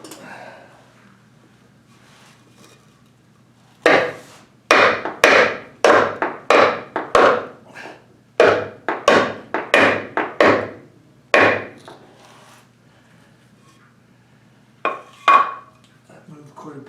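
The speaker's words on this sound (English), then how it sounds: "take our trusty bearing tool, piece of wood and a hammer, and evenly apply enough force to get that up" A hammer strikes a bearing tool set on a wooden block, driving a seal on a Kubota L2550 tractor front axle wheel case, in a rapid series of sharp, ringing knocks, pausing, then two more blows.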